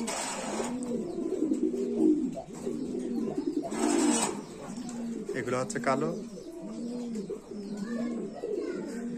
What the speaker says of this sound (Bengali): এগুলো হচ্ছে বাইরের পোস্টার কবুতর।